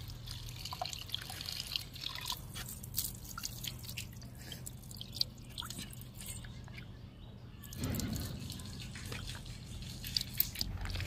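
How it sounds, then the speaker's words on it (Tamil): About three-quarters of a kilo of raw chicken is rinsed in water on a rooftop terrace. Close drips and soft splashing mix with handling noises, and faint birdsong sounds in the background. "ஒரு முக்கால் கிலோ சிக்கனை நல்லா பார்த்தீங்கன்னா எடுத்து அலசிக்கிறேங்க."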